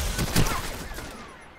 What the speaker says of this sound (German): Wird man von zwei Seiten beschossen.